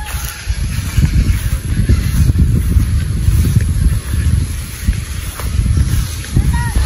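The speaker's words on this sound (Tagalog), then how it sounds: "Malakas ang hangin." Strong wind gusts across an open outdoor field where people walk to gather taro, buffeting the microphone as a loud low roar that swells and dips throughout, with a voice talking over it.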